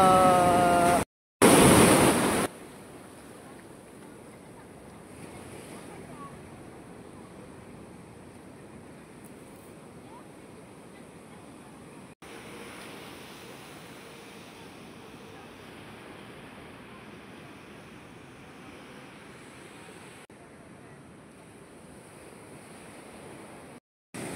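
Strong ocean waves at a beach make a steady, broad roar of surf and wind, following a short, loud burst at the start.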